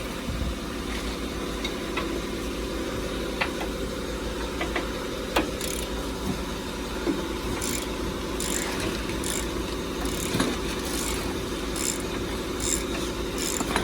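A ratchet loosens suspension bolts on a 2003 Ford F-150 shop truck, giving scattered sharp clicking pawl ratchets over a steady workshop hum, close by and without speech.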